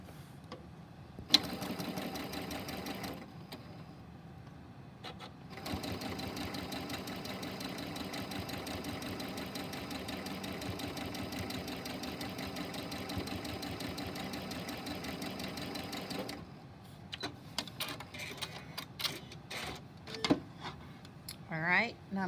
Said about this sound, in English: I'm going to flip this over and sew from this side